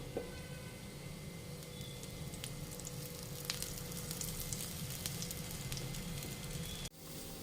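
Gunta ponganalu made from dosa batter fry in oil in a paniyaram pan, giving a steady, close sizzle that holds evenly throughout, with a few faint clicks and a brief drop near the end.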